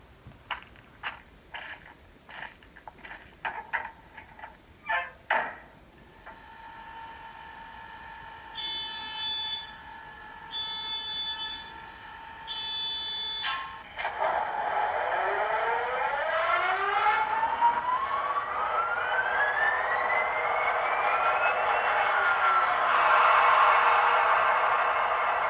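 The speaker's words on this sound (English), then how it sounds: "to start up the locomotive, you have to press F9" A BLI SD40-2 model locomotive's sound system starting up: a string of short beeping clicks, a steady electronic tone, then the diesel prime mover cranking and rising into a loud sustained whine and rumble that climbs in pitch.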